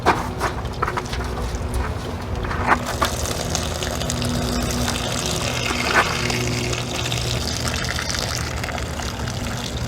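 Maple syrup drains steadily from an outdoor boiling pan, a continuous close trickle and splash of liquid running throughout with a few brief knocks.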